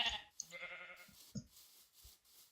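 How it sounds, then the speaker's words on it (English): Sheep and cows in a Minecraft modpack world give short bleats, a few brief calls close by with quiet gaps between them. "Hello cows, hello sheep."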